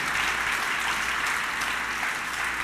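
A church congregation applauds together during a sermon. The clapping forms a dense, steady wash of sound that holds throughout, with no voice over it.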